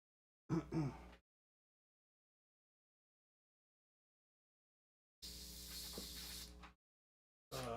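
A slightly scuffed airbrush spraying paint gives short hissing bursts separated by long silences, a brief puff first, then a longer steady spray of about a second and a half, and another starting at the end; close, no talking.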